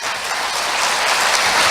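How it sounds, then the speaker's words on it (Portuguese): Congregation applause during a church sermon, a loud, continuous wash of many hands clapping together with no break, filling the whole moment without speech. "Você pode aplaudir o Senhor por isso"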